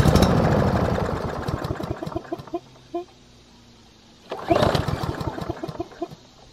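A lawn mower's small petrol engine cranks and catches for a few seconds, sputters down and dies, then briefly turns over again before falling quiet, close by and fairly loud with hens clucking faintly in the background.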